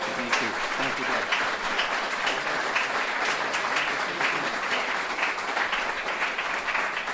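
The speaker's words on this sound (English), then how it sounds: "please give a round of applause for our panelists" An audience applauds panelists at a political convention event, sustained dense clapping from a large crowd that stays loud and even throughout, with no voices standing out.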